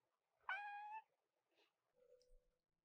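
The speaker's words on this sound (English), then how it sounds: "This is my cat, guys." A pet cat that has just woken up gives a single clear, close meow lasting about half a second, followed by a couple of faint soft noises in an otherwise quiet room.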